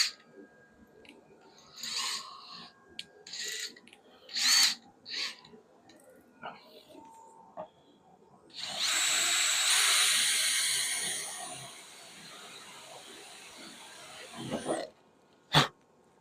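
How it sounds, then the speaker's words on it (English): A small drill bit marks holes in a workpiece, giving a long whining burst of drilling near the middle that is preceded by several short bursts and followed by one brief final spurt, all close and fairly loud. "just mark them with a small drill bit"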